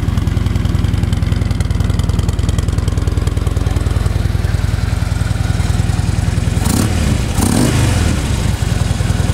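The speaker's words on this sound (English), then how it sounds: "Bike sounds good." A used Harley Davidson Street Glide FLHX motorcycle idles close by, its engine a steady loud low throb with an even pulsing rhythm, with a brief burst of extra noise near the end and no talking.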